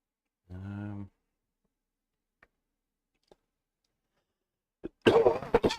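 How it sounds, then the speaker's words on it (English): Mostly quiet with a few faint ticks, then a sudden harsh cough bursts out close by near the end. "haven't I got rid of this cough?"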